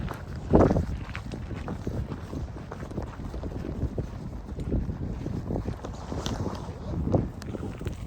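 Gusty wind buffets the microphone on a cold, wet hike from Kinlochleven to Fort William on the West Highland Way, with low rumbling and occasional louder gusts, alongside faint movement sounds.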